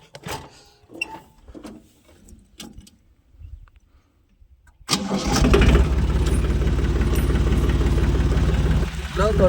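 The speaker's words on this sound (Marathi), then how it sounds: "हे ट्रॅक्टर तर बघू आता सेल्फ मारून बघू" After a few seconds of quiet shuffling, a tractor engine cranks on its electric self-starter and fires up, settling into a loud steady diesel rumble.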